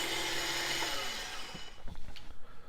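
Espresso grinder motor whirring loudly and steadily, then spinning down and stopping midway, followed by some light clicks and handling knocks close by.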